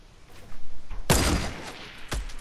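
Gunfire in the Fortnite battle royale game, a loud burst of rapid shots followed by a single sharp report, heard over faint game ambience.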